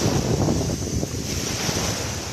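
Sea waves wash onto the shore at Palm Beach in Cyprus, a dense, continuous roar of surf mixed with gusty wind buffeting the microphone, loud and close with no voices.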